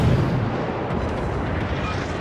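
Secondary guns on a warship in World of Warships fire as rumbling booms that blend into one dense, heavy roar across the short span, with no talking.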